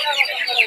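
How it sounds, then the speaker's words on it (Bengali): White chicks at a busy duck and chicken market, heard as a dense, continuous high-pitched peeping and cheeping from many birds close by. "পাশাপাশি যে সাদা কিছু মুরগির বাচ্চা দেখতে পাচ্ছেন,"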